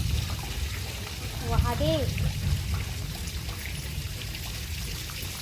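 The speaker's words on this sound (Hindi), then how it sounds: "बिकट पानी है, पूरा हादे हमार गली में भर गए है।" Heavy monsoon rainwater in Chhattisgarh pouring and rushing through a flooded village lane, a continuous close splashing flow with a voice speaking briefly over it.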